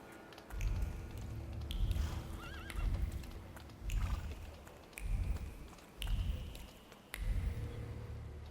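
A horse in the video game The Thaumaturge neighs and whinnies repeatedly, with soft clip-clopping hooves and squishy steps in a rhythmic pattern of roughly one-second bursts, fairly close and alone with no talk.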